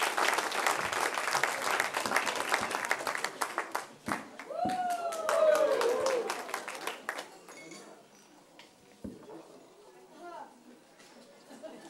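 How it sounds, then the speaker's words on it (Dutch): Scattered hand claps from a small audience, loud at first, then thinning out and fading, with a voice and a brief whistle-like tone sounding over the clapping in the middle. "Dus een applaus."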